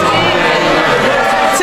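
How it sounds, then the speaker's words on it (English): Members of parliament cheering in the chamber, a dense, loud roar of many voices and whoops filling the whole moment without pause. "They're all cheering."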